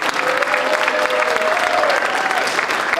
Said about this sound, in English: Give the People's Attorney General a big round of applause.